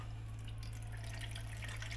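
Distilled water poured for sourdough bread dough makes a soft, steady trickle and patter over a constant low hum, with no voices.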